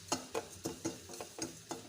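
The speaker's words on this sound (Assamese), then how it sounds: "এইফালে অ'টছ ভাজিছোঁ।" Oats stirred while dry-frying in a pan, a quiet, rhythmic series of scraping strokes about every quarter second, each a short gritty swish, close by and faint.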